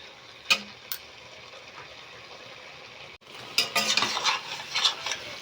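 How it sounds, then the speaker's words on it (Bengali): Marinated chicken for an oil-free chicken curry stirred in a pan over a high gas flame, with a soft steady sizzle, a few sharp utensil scrapes and knocks, then busier scraping and clinking as stirring picks up. "এবারে আমি এটাকে আগে ভালো করে ভাজবো।"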